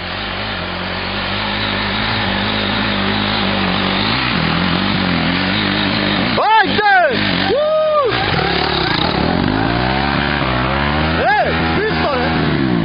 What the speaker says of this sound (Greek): Σβήστο το μηχανάκι, σβήστο!